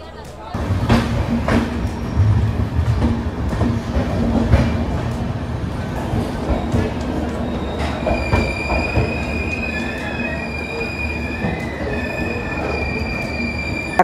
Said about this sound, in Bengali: এখন শালিমারপুরি সুপারফাস্ট এক্সপ্রেস খড়গপুর স্টেশনে পৌঁছালো